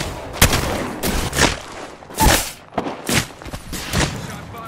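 Rapid gunfire in a shooter video game, a string of sharp, loud shots in an uneven rhythm with short gaps between bursts, close and punchy, with no speech over them.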